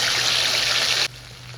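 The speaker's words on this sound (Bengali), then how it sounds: "তেলটা গরম হলে এখানে গোটা গরম মশলা, এলাচ, লবঙ্গ, দারচিনি নিয়েছি, সেটা ফোড়নে দিয়ে দিলাম। দিয়ে দেব বেটে রাখা মশলাটা।" Ground spice paste hitting hot refined oil already tempered with whole cardamom, cloves and cinnamon, giving a loud, steady sizzle for about a second before it drops to a quieter hiss.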